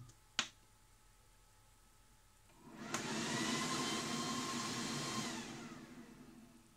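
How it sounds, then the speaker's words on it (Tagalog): A Thunderbox 600W portable power station starts its cooling fan on AC output: a click, then a steady close whirring rush that swells in at about three seconds and holds evenly, with no talk. "pag unang turn on mo na AC, aandar yung fan, titigil naman kapag walang load."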